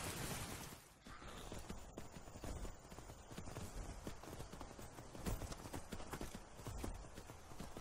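Horse hooves clip-clop in Skyrim in a quick, continuous rhythm of dense, crisp thuds, moderately loud and steady throughout with no talking.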